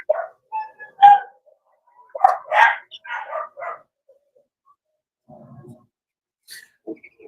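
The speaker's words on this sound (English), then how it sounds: "We got an airplane flying overhead, and the dogs are losing it." Several dogs bark excitedly at an airplane flying overhead, with sharp, close barks and yips in irregular bursts separated by short pauses. The plane itself is not distinctly audible.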